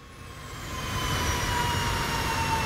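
A high-bypass jet engine in a video game spools down after the throttle is cut, its whining tones sliding slowly lower over a steady airy rumble that stays loud throughout.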